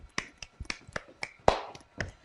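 A single pair of hands claps out a sharp, uneven rhythm of about a dozen close, crisp claps with short silences in between.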